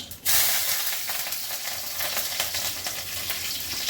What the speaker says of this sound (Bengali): তেলটা গরম হয়ে গেছে, কালো জিরে ফোড়ন করলাম, দুটো কাঁচা লঙ্কা